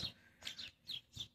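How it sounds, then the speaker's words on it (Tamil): Small birds give four or five quick, faint chirps at an outdoor spot where water is put out for them, evenly spaced in a short burst. "பறவைகள்லாம் கத்திக்கிட்டு இருக்குங்க"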